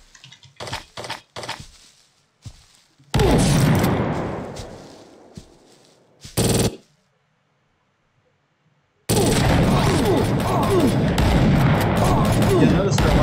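AI enemies firing guns in a GameGuru shooter, bursts of rapid gunfire and loud blasts separated by quiet gaps, with a voice talking over parts of it.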